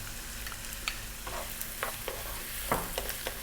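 Okra fries with onion and garlic in a pan on high heat, a steady close sizzle broken by sharp scraping stirs every half second or so.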